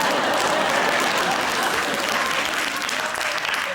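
Studio audience applauding on a British comedy panel show, a dense sustained burst of clapping that stays loud and steady for several seconds before tapering slightly at the end.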